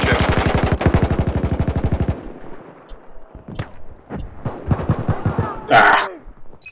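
Automatic gunfire in Battlefield 4 on a Guilin Peaks conquest map: a loud, rapid burst of about twenty shots lasting two seconds, followed by scattered distant shots and an explosion-like blast, with brief talk.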